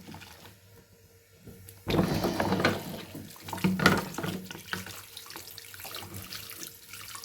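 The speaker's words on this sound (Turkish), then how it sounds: "Şimdi durulayacağım." Wooden spoons are rinsed under a running kitchen tap. After about two seconds of quiet, water gushes loudly and keeps splashing unevenly as the spoons are turned beneath the stream.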